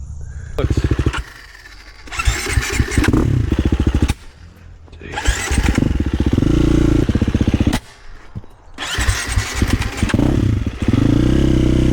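A fuel-injected KTM 350 motorcycle engine, warm and idling, flaming out: loud, close revving bursts that keep cutting out to quieter, rougher running before picking up again, with a voice in the background.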